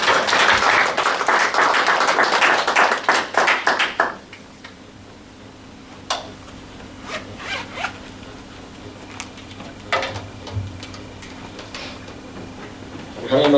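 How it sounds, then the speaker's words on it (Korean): A church congregation at a Friday night prayer meeting claps to welcome a missionary to the front. A loud, dense burst lasts about four seconds, then drops to a quiet room with scattered taps and a voice. "우리 나오실 때 우리 힘찬 박수."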